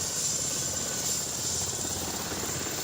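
A helicopter flies overhead, a steady, continuous rotor and engine roar at moderate distance with no voices.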